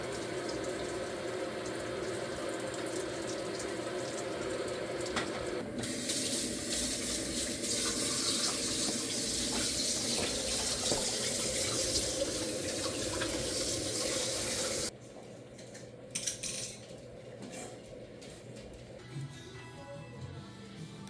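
Hot Glühwein is strained and poured, a continuous splashing stream running for several seconds, growing louder and fuller in the middle, then cutting off to quieter trickles and small clinks.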